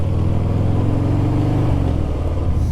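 A Harley-Davidson Fat Bob motorcycle engine pulls hard under acceleration while riding, a loud, close, continuous low rumble with a steady throbbing drone.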